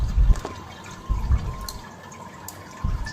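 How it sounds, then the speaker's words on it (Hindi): Water is pressed out of chhena, fresh cheese curds bundled in a cloth, dripping and splashing in a few short bursts between quieter trickling moments. "अब दबा दबा के इसका सारा पानी हमें निकालना है।"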